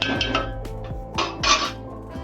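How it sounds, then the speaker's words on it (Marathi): A lid set down on a cooking pot of clams, giving a few sharp metallic clinks and rattles close by, with no voices. "झाकणी ठेवते वरती."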